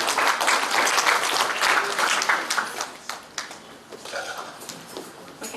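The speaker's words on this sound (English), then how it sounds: "Please applaud them as they get ready to do some heavy lifting" A crowd at a scholarship award ceremony claps loudly and densely at first, then the applause thins and tapers into scattered claps toward the end.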